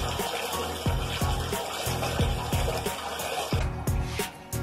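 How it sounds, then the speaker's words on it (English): Tap water filling a bathtub: a steady close rush of flowing water with regular soft pulsing beats throughout and no voices. "Now that we have like half of the tub filled in"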